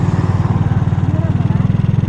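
A Honda motorcycle engine idles in Subic, a close, steady low putter with an even rapid pulse throughout, quiet and smooth.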